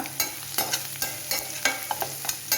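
Ingredients for a pavakka (bitter gourd) and carrot pickle frying lightly in a pan. A close, steady sizzle is broken by regular crackling pops and stirring scrapes.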